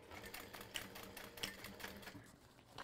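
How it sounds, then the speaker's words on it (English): A sewing machine backstitches a seam while a portable gaming console case is being made, giving quiet, rapid mechanical stitching with small clicks and brief pauses and changes in pace. "I'm gonna backstitch"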